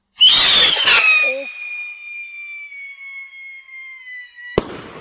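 A whistling firework rocket bursts with a crackle, then a long piercing whistle holds and slowly falls in pitch before a sharp bang; voices murmur beneath.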